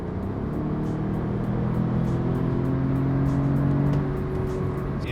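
2016 Audi S3 sedan in sport mode with the exhaust valve open, a close, steady engine drone held in gear, rising slightly then easing, with a few faint clicks and no speech.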